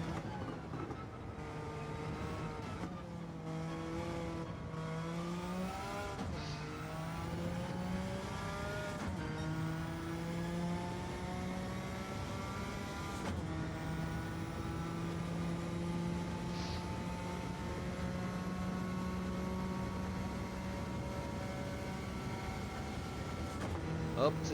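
Suzuki Escudo race car in Gran Turismo 7 at Le Mans, its engine droning loud and steady with rising revs that drop sharply at each gear shift, several upshifts in a row, with a voice talking over it.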